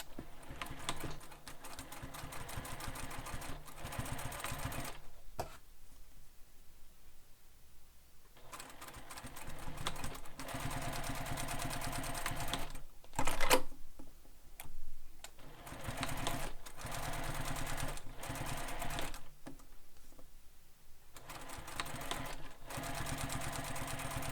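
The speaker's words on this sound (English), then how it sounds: "So top stitch our strap anchors." A sewing machine top-stitches the strap anchors of a sling pack in several long steady runs of fast needle chatter, broken by short quiet pauses, close and alone without talk.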